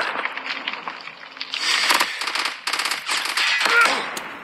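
Loud rapid gunfire in the mobile shooter Call of Duty Mobile, dense automatic bursts and sustained firing near at hand with scattered in-game sounds.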